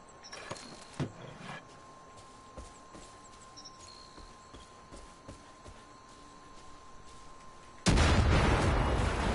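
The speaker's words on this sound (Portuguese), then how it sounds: "Vamos fazer um bagulho aqui, ó. É, explosivo remoto." A remote explosive detonates in the shooter game Far Cry 5, a sudden loud blast near the end that follows quieter clicks and faint ambient game sounds.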